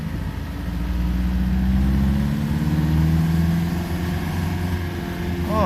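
An MG TD sports car engine hums steadily at mid pitch while the car drives in second gear, with a slight rise and fall in revs. It is close and continuous, with no voices.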